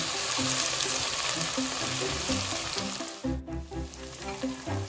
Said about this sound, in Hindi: अब हम यहाँ पे इसमें लहसुन अदरक ऐड कर देंगे। अब 1 से 2 मिनट के लिए लहसुन को थोड़ा सा जो है ब्राउन होने देंगे।